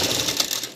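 A sewing machine stitches lace onto the edge of a saree, giving a brief, close, steady mechanical whirr of fast stitching that lasts under a second.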